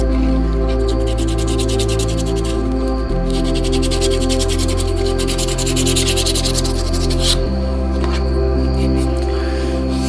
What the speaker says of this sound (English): Hit it perpendicular to the way you've been sanding.